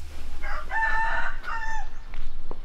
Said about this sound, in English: There are a ton of chickens in this village.